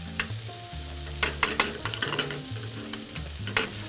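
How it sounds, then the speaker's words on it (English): Par-cooked baby carrots sizzle in a warm pan with butter, salt and pepper, a steady close frying hiss broken by scraping stirs and clinks, with a low hum running underneath. "to order we'll just pick them up in a warm pan with some butter and salt and pepper"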